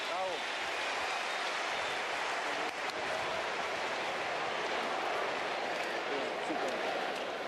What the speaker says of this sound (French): Et l'ovation pour Lilian Thuram.